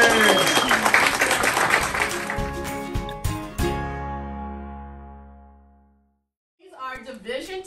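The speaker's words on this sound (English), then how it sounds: "Let's give her a round of applause." A high school audience applauds a division teacher of the year. The clapping is loud at first, mixed with ringing tones, then trails off into a brief silence before a voice speaks.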